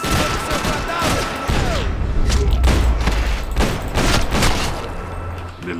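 Bursts of gunfire and heavy booms ring out in a Max Payne 3 firefight, loud repeated volleys spread across the stretch, with a brief spoken word in Portuguese over them.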